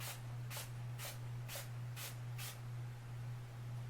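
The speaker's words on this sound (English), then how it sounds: "I'm going to use my Wet n Wild Natural Finish setting spray" Six quick hissing bursts of Wet n Wild Natural Finish makeup setting spray, evenly spaced about half a second apart, close and distinct over a steady low electrical hum.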